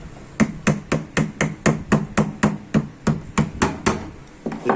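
Steady series of sharp metallic hammer blows on a screwdriver driving out a small safety shim washer on a power steering rack and pinion, about three strikes per second, close and loud.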